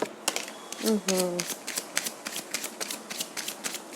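Tarot cards shuffled by hand during a reading: a quick, close run of crisp riffling clicks and flicks, repeated steadily, with someone talking briefly over it.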